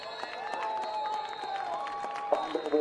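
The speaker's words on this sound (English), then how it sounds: "the fans get something to cheer about" Fans at a high school football game applaud and cheer as the third quarter ends, a distant crowd murmur with scattered clapping under a commentator's voice.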